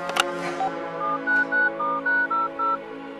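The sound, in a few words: telephone being dialed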